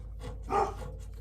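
A pet dog barks once, a single short close bark against quiet room tone.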